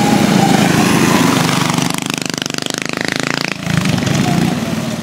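Small mini bike engines race loudly at close range in a competitive mini bike race, a steady high buzzing revving drone that dips briefly and then surges back to full throttle.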